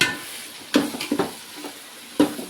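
Chopped tomatoes stir-fried with browned onions in a pan, giving a soft steady sizzle broken by a few louder scraping stirs near the start and again toward the end, close and alone.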